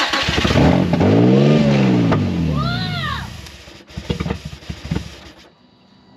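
Nissan 350Z with a manual gearbox and no intake fitted, cranking and catching into a loud rising rev, then sagging and dying out, followed by a few sharp knocks and clicks in the quiet.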